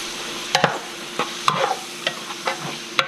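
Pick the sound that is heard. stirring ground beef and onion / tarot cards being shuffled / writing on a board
stirring ground beef and onion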